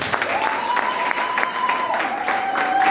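A church congregation applauds in a steady, dense patter of clapping, with voices and crowd noise mixed in under it.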